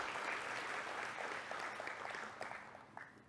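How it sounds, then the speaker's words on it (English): Soft, somewhat distant applause from a crowd, steady at first and then thinning out as the clapping tapers off. "one more round of applause for our excellent facilitator, Lauren."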